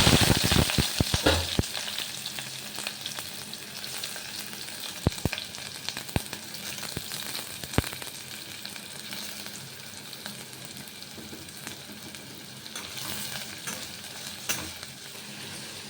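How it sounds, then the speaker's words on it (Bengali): Onions fry slowly for birista over a low flame, a continuous bubbling sizzle with occasional spoon knocks and stirring scrapes, busier at the start and then settling into a steady crackle. "একদম লো ফ্লেমে দিয়ে আস্তে আস্তে অনেকক্ষণ টাইম হাতে নিয়ে বেরেস্তাটা ভাজতে হবে"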